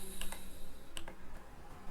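A few soft computer mouse clicks, two or three quick ticks close together and then another pair, faint against a quiet hum, with no talking.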